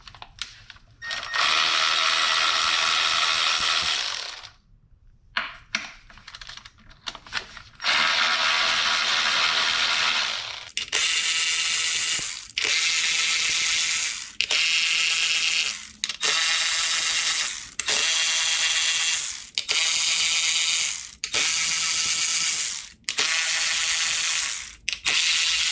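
A ratchet spins off the 10 mm bolts of the top plate on a 2012 Honda Accord V6: loud, close bursts of rapid clicking, several runs of a few seconds each separated by short pauses, with no talk.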